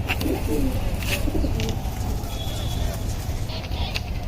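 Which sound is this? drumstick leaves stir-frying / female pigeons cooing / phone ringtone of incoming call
female pigeons cooing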